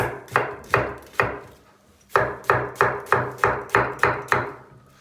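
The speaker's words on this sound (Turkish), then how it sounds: "Biberimizi doğramaya devam ediyorum" A knife chops peppers repeatedly against a cutting board, a few strokes, a short pause, then a steady rhythmic run of close, crisp chops.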